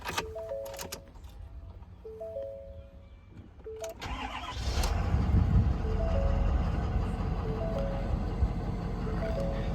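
A 2017 Ford F-250 truck cranks and its engine catches, settling into a steady, fairly loud idle that rumbles on after a quieter stretch marked by a few electronic chimes.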